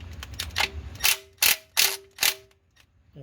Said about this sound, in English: I'm just going to use the impact with the 17 just to break it loose